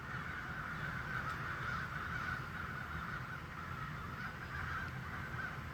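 Crows or similar birds calling during a snowstorm, a steady chorus of caws over continuous wind or ambient noise throughout, moderately faint with no talking.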